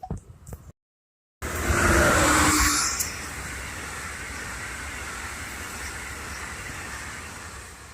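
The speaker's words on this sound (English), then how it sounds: "I hear a train." A passenger train on the Northeast Corridor rushes past close by in a loud, broad roar after a brief silence, then settles into a long, steady rumble as the cars keep rolling by.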